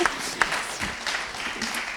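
Short burst of applause from a small audience at a panel discussion on food access, a brief scattering of claps with some murmuring.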